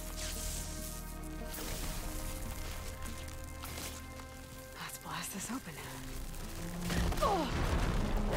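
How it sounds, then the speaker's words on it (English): An explosion in the video game Horizon Forbidden West: heavy, rumbling blasts and crackling debris over a dense game soundtrack, growing louder toward the end. "The explosion happened to my left, so she gets thrown left?"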